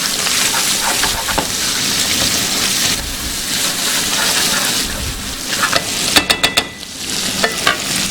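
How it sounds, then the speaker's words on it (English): Tomato paste, diced onion and fresh cilantro sizzle steadily in a hot pan while being stirred, a dense crackling fry with scraping strokes and a few sharp clinks near the end. "I'm going to stir that up."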